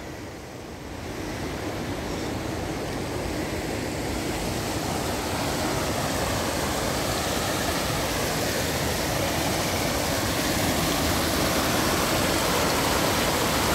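The Janjina river runs swollen and higher than usual on a winter day, giving a steady, full rushing and babbling of water that holds close and loud for the whole stretch, with no voices.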